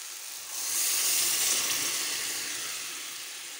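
Hot water poured into a pan of sizzling pea curry (ghugni) with boiled peas, bursting into a loud steady hiss and sizzle that rises sharply and then slowly fades, with no voices.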